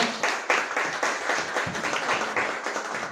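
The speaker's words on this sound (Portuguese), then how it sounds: "Vamos receber com a salva de palmas, por favor" Audience applause after an introduction of Cacá and Renan, storytellers, at a troubadour poetry academy event; sustained, fairly even clapping at moderate distance with faint voices mixed in.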